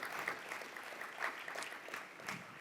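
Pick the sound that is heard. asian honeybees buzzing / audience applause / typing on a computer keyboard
audience applause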